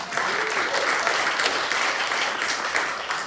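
A crowd at a May Day rally in Edinburgh gives a sustained, even round of applause, steady dense clapping throughout with no talk over it.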